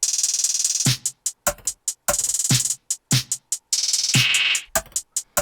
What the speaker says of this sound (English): I added this little perk sound here.